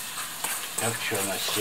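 Carrots frying and sizzling in a pan for plov, a steady crackling hiss with stirring, while a person talks briefly over it.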